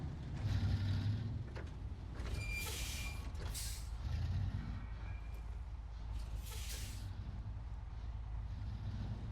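A heavy truck in SnowRunner backs up to hook onto a trailer: a steady diesel engine rumble runs throughout, with sharp hissing air-brake bursts near the start and again later, all without speech.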